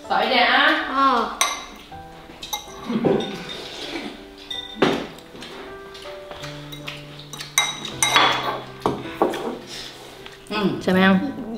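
Pots, pans and cutlery clatter and clink in a home kitchen during cooking: irregular metallic knocks and scrapes, some sharp and close, with people talking alongside.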